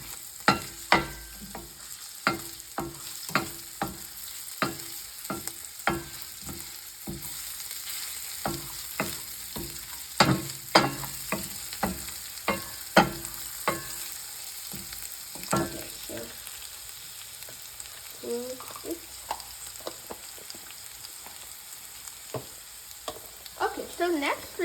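Mushrooms fry with ginger paste in a pan, a spatula scraping and clacking in a steady irregular rhythm over a soft continuous sizzle.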